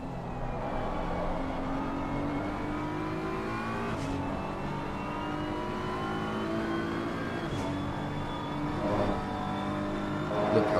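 GT3 race cars lapping Mount Panorama in the racing game ACC, engines droning steadily at high revs with rising gear-change whines and brief upshift breaks, several cars overlapping close by throughout.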